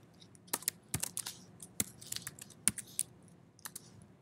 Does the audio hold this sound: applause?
no